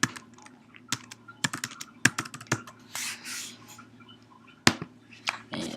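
Clicky computer keyboard keys tapped in quick irregular bursts, with short pauses and a couple of louder strokes, close and clear over a low background hum.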